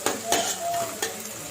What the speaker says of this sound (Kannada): ಫ್ರೈ ಮಲ್ಪದು